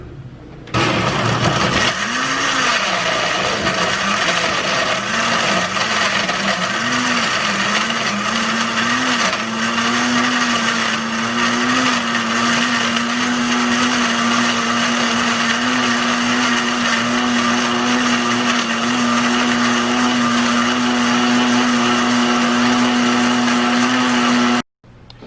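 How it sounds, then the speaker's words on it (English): An electric blender whirs continuously while blending buko coconut juice, starting with a rough churning spin that settles into a steady, loud high-pitched motor whine for about twenty seconds before cutting off. "we ran the blender for about 1 minute"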